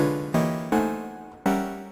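A chord played in Ableton before a scale MIDI effect is applied, struck three times in succession, each a bright sustained synth-like chord that decays before the next hit.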